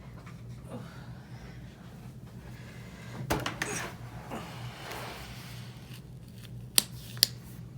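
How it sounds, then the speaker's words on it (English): Quiet room with a low steady hum, then a few crisp snipping cuts and two sharp clicks near the end, close by. "I need scissors."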